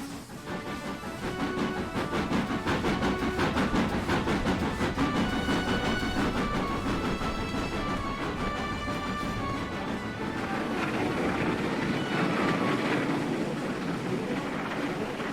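Steam locomotive North Star labours at the head of a long, heavy express train, a loud, continuous rumble and clatter with ringing metallic tones running throughout.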